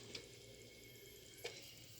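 Steady low sizzle of chicken frying in a warmed pan, with a couple of brief sharper crackles or stirring clinks.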